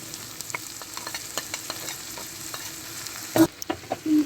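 Chicken frying in a pan, a steady sizzle broken by repeated scraping stirs and a louder clatter near the end, with no talking.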